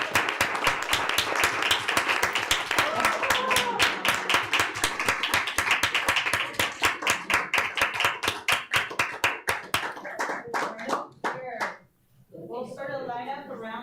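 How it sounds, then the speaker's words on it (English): Students enter a school board meeting to steady rhythmic clapping, loud and even for about ten seconds before thinning into scattered claps, while voices talk and cheer over it near the end. "I hear the applause as they come in."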